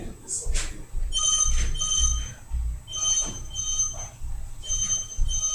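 A telephone rings repeatedly in short electronic bursts, fairly close, with someone talking over and between the rings.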